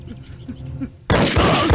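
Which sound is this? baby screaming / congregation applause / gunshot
gunshot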